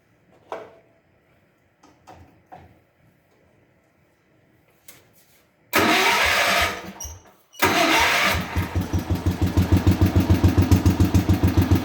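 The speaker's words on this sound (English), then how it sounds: "I'll start the tractor up, and then I'll run the cylinder so you can see it" A 1979 Power King tractor engine is cranked after a few faint clicks and knocks, catches, briefly cuts out, then restarts and settles into a loud, steady rhythmic idle with no talking.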